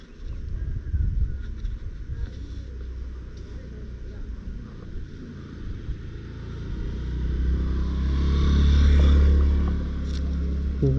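A motorcycle fitted with a barrel exhaust rumbles low and steady, swelling louder toward the end as it rides along a hill road, with voices talking over the engine.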